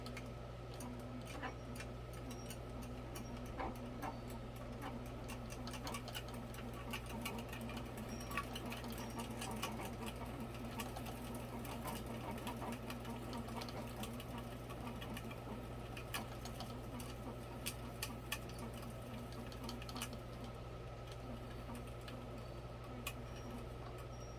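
Coils are wound by hand during the rewind of an ILG 163 electric motor, giving a faint, continuous ticking and whirring with a steady low hum throughout and no talk.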